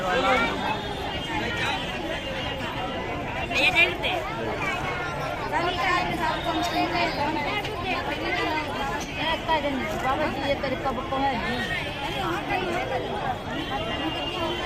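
Dense crowd chatter and hubbub from many people gathered at a bhandara community meal in Kushinagar during a Jai Gurudev Mukti Diwas event, a steady, busy babble of overlapping voices filling the scene throughout.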